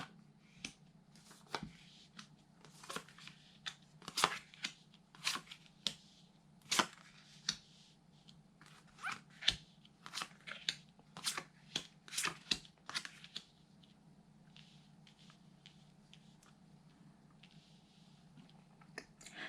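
Tarot cards shuffled and drawn, with a scattered series of soft, close slaps and flicks over a low steady hum, thinning out toward the end.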